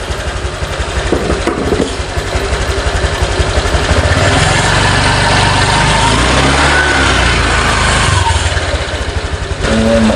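A Honda Click 125 motor scooter engine with a noisy rear wheel idles noisily up close, then revs up for several seconds and settles back down, a rough, continuous mechanical drone.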